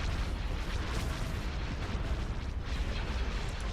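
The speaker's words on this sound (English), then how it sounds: "Opening fire on the torpedo launchers." Space battle weapons fire in a Star Wars strategy game, Thrawn's Revenge: Imperial Civil War, aimed at torpedo launchers: a dense, continuous roar of booming blasts and explosions with no pauses, loud throughout.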